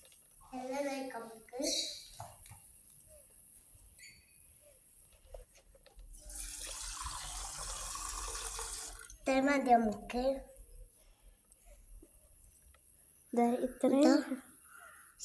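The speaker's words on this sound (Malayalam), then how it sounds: "ആദ്യം അവനെ ഒന്ന് വെള്ളം നിറക്കണം" Water running from a tap into a glass in a short burst in the middle, while a child and an adult talk before and after it.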